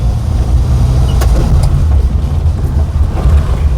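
Engine of a 2000 Maruti Omni van labouring in second gear, a steady loud low rumble throughout with faint clicks and rattles from the moving van.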